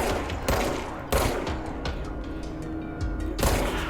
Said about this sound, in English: Now, who's out there still shooting at me?